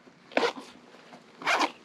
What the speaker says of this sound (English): zip this open